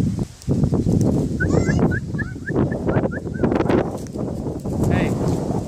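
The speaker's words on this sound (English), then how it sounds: "Apparently this bird is lost." A lost turkey gobbles in a quick run of short, rising calls at a country home, loud and close, while people talk over and around it.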